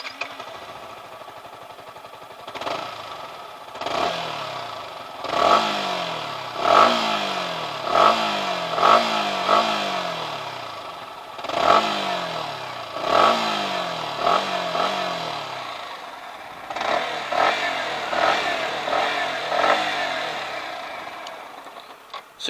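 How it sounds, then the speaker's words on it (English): Yamaha R15 V3 motorcycle exhaust revved repeatedly in short blips, each rising sharply then falling back to idle, close and fairly loud in a steady rhythm of bursts with brief pauses between. "So let's hear the exhaust note now."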